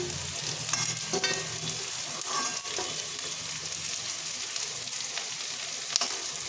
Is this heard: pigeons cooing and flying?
no